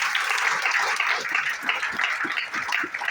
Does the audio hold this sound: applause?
yes